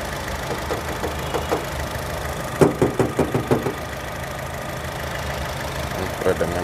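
A used Honda Jazz RS hatchback idles with its engine running, a steady mid-pitched hum broken by a run of sharp knocking or tapping clicks, as someone talks over it nearby.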